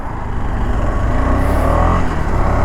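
A KTM 250 Adventure motorcycle engine pulls steadily on an open road, a continuous loud drone with a gently rising pitch, mixed with wind rush and no pauses.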